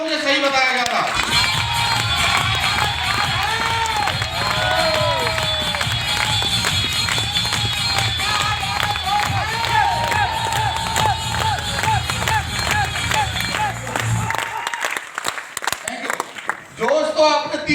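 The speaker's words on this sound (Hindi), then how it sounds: "जोरदार ताली बजा के बता दो मुझे सही बताया गया था" A large audience at a business seminar claps loudly and cheers, a dense sustained roar of applause and shouts that cuts off sharply near the end, leaving a voice speaking.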